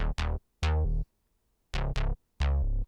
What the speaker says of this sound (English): If we drop it just one octave down,